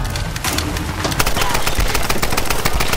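Rapid, sustained gunfire from the video game Tomb Raider: Definitive Edition, a dense run of close, loud shots with no pause over a rumbling game background.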